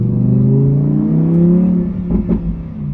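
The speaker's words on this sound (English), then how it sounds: "So I'm gonna give it a little bit of gas if I got a little bit of room in front of me." A Lamborghini Huracan EVO in Sport mode revs its engine up from idle, a loud, close rising roar that swells and holds, then drops back with a short burst of crackling exhaust pops near the end.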